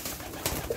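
A Rajshahi Giribaz pigeon from a collection in Pabna gives a brief low coo, with a couple of short soft pulses over a steady background hiss and no voices.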